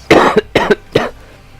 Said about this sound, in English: while I try not to die coughing to death.